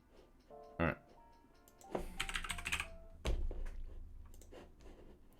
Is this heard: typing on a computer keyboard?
yes